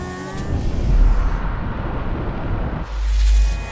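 Car in Grand Theft Auto V driving and accelerating on a street, a loud continuous engine roar rising and surging, with a heavy low thump near the end.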